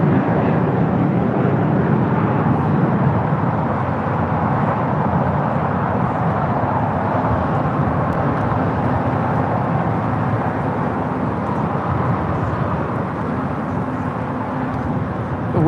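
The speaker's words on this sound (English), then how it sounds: "Aeromexico flight 647 heading back to Mexico City in the 787-8 Dreamliner." Aeromexico Boeing 787-8 Dreamliner jet departing on a windy day, a steady loud broadband engine roar that holds throughout and eases slightly toward the end.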